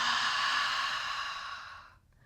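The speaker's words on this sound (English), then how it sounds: "deep inhale, deep exhale out through the mouth." A single long, breathy exhale is pushed out through the mouth during a yoga breathing exercise. It is soft and close and fades away near the end.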